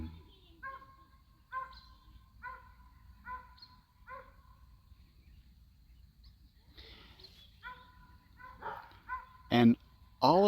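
A dog barks repeatedly in short evenly spaced bursts, moderately distant, followed by louder sharper sounds and a brief vocal near the end.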